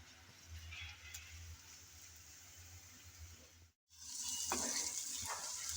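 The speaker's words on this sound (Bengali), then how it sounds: "হালকা ব্রাউন কালার করে ভেজে নেব।" Onion and garlic fry in a small amount of oil, giving a soft, steady sizzle. It breaks off for an instant and then returns louder and brighter, with no voices.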